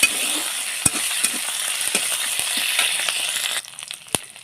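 Ginger and cumin paste frying with spices in an oil-filled pan for a tangy egg curry, a steady close sizzle with scraping stir strokes and occasional sharp clinks, easing toward the end.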